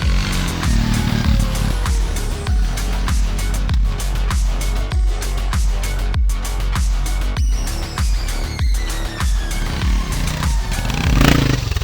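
A Suzuki DR650 dual-sport motorcycle with an aftermarket exhaust rides steadily, its loud, throaty single-cylinder engine thumping continuously up close with slight throttle changes and no talk.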